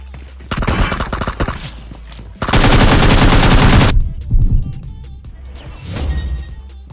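Machine gun fire in the mobile battle game BGMI rips out in two long, loud, dense bursts, followed by a shorter, fainter burst after a pause, with scattered impacts in between.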